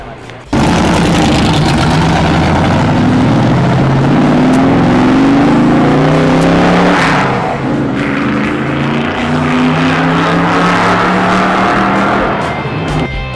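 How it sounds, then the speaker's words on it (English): IndyCar race cars at a Las Vegas racetrack, loud engines roaring and passing at speed with rising and falling pitch as they sweep past close by, continuous throughout. "This guy just gives people rides at 160 miles an hour around a racetrack all day."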